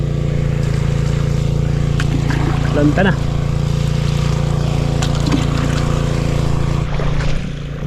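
A small engine driving a water pump for field irrigation drones steadily and loudly close by throughout, with someone speaking briefly over it before the sound dips near the end.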